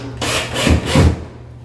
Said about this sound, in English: we're just going to use this little drill